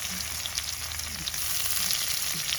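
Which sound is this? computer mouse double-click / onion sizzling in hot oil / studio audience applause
onion sizzling in hot oil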